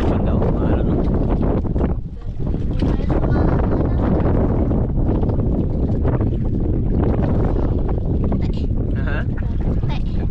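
Strong wind buffets the microphone at sea from a boat in rough, fast current with whitecaps, a loud continuous roar with gusting rumble filling the whole clip, briefly dipping once before surging again.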